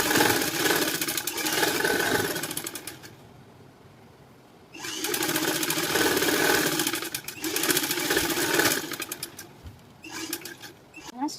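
A sewing machine stitching a blouse seam runs in close, steady whirring bursts, stopping briefly around the middle and picking up again in several short runs.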